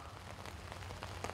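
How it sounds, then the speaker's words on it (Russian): Heavy rain pours steadily outdoors at a Great Patriotic War memorial gathering by the Bobruisk fortress, a faint, even wash of patter and hiss with no talking. "Проливной дождь"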